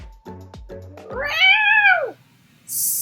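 A voice imitates a cat's meow as a long rising-and-falling mewl, loud and close, preceded by short throaty clicks and followed by a burst of hiss.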